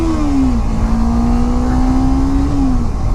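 Kawasaki Ninja 300 motorcycle engine revving hard, its pitch climbing steadily, dropping briefly at a gear change, then climbing again. The revving is loud, close and continuous, with no talking.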